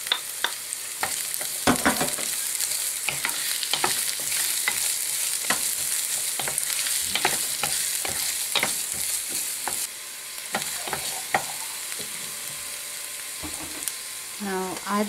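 Onion frying in a pan for green bean adobo gives a steady close sizzle, broken again and again by sharp scraping clicks of a spatula stirring through the pan.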